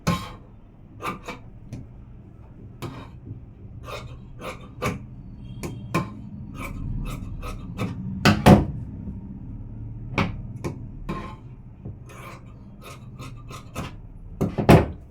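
Scissors cut through blouse fabric along the side seam, a close series of sharp snipping strokes at an uneven pace with quieter sliding and rustling between them.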